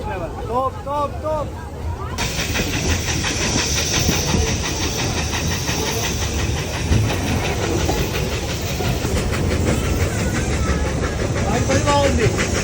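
The Puffing Billy steam train in Australia rolls along the rails with a steady rumble and rhythmic clatter, loud and continuous after a quieter start with some voices.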